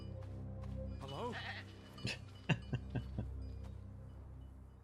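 A goat in the video game Draugen bleats with a wavering, sheeplike cry, followed by a few short, sharp thuds over a steady low hum.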